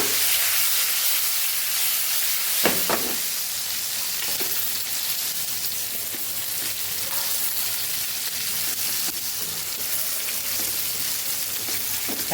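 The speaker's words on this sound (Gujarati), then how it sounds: "અહીંયા આપણે બે બાજુથી સરસ ટમેટાને તેલ સાથે સાતળી લીધા છે" Stuffed Kathiyawadi tomatoes cook in oil under a lid, giving off a steady, loud sizzle and hiss with a few brief knocks early on and no one talking.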